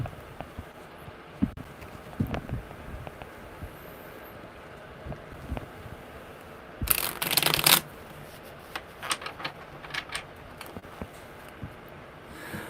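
Tarot cards being shuffled by hand, a run of soft scattered card flicks and riffles at close range, then one loud dense burst of rapid shuffling before quieter taps resume.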